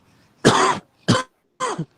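Three harsh coughs close to the mic, a long rasping one followed by two shorter bursts, separated by brief silences, from a smoker's cough.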